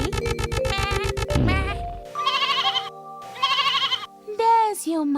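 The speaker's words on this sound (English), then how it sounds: "You are a lamb, a sheep's baby, so you bleat." A lamb bleats in a few drawn-out, wavering calls, loud and close, within a cartoon animal story for children with a musical jingle at the start.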